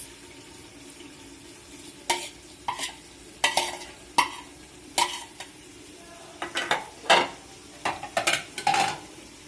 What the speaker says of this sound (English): Now let us add mint leaves.